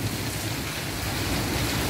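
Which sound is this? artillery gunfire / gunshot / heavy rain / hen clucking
heavy rain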